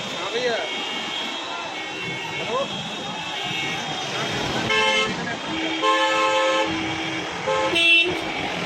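A car sounds its horn with several short toots while it pushes slowly through a dense, noisy crowd at a political rally in Deoria, under loud shouting and crowd chatter.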